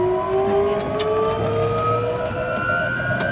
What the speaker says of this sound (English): You have ignition. Light off.